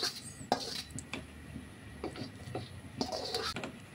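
Quiet scraping and clinking of a metal utensil against a wok, scraping up spice paste in short irregular strokes, close by with no talk.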